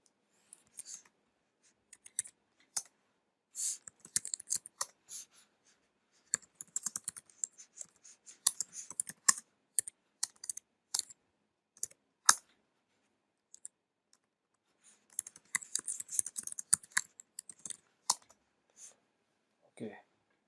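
Typing code on a computer keyboard, with irregular bursts of close clicky keystrokes, pauses between runs and a dense flurry near the end.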